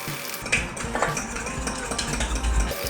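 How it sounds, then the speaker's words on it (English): A fork whisks egg and milk in a bowl for oven fried chicken, making quick, close clinking and tapping strokes against the bowl with a busy rhythmic clatter. "And I just use a fork to go ahead and whisk that up."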